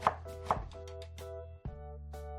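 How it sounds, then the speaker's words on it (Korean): A knife thinly slices onion on a cutting board, heard as a few close, crisp chops in a quiet kitchen with a steady low hum behind. "잘 녹아들도록 가늘게 가늘게 채 썰어주세요."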